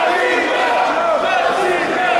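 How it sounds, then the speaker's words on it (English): At a no-holds-barred wrestling match with broken glass, a large crowd roars and cheers wildly in a dense, continuous wall of voices. "Hoodfoot and Sadika lay there on all the broken glass as the crowd goes insane."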